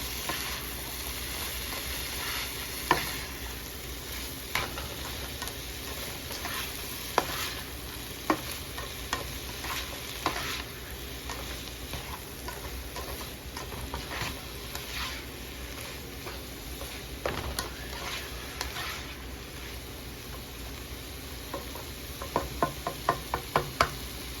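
Bitter melon (ampalaya) frying in a pan is stirred steadily: a constant sizzle with repeated utensil knocks and scrapes against the pan, a quick flurry of taps near the end, and no talking.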